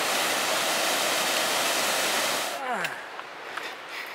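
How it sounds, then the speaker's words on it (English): A waterfall on a creek along the Rae Lakes Loop trail gives a loud, steady, close rushing roar that cuts off abruptly near the end, leaving quieter outdoor sound with brief faint noises. "There's like a waterfall here."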